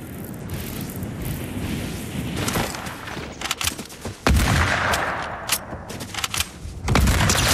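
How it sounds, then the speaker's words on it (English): Hunting rifle gunfire in Fortnite near Loot Lake, loud sharp reports mixed into a busy game soundscape, with a big crack around midway and another blast near the end. "I got headshot sniped by a hunting rifle"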